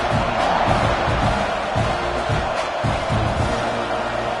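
A football stadium crowd roars steadily throughout, a dense, continuous wall of loud cheering with scattered shouts, at kickoff.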